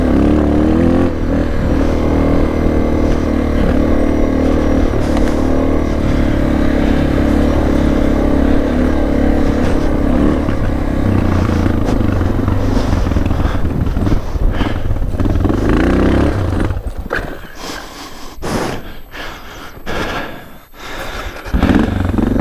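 A motorcycle engine holds high revs during a steady road ride toward the Rockies, droning loud and continuous before rough wind buffeting and clattering thumps break in near the end.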